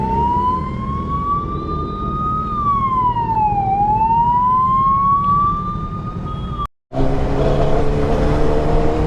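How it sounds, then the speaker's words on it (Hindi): A loud wailing siren rising and falling slowly, close by over traffic rumble, cut off briefly before engine and road noise continue. "एम्बुलेंस"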